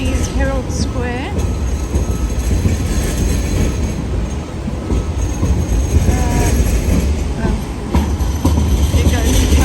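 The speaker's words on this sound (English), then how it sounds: "There goes the tram." A tram rolls past in Herald Square on a rainy Sydney street, its wheels squealing and rumbling steadily and close by, with voices talking over it.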